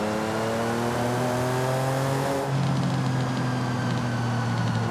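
A Porsche GT3 RS in the video game Forza Horizon 5 drones at steady engine pitch, with a layered mechanical whine from straight-cut gears, then the tone shifts lower halfway through as the car keeps running loud and close.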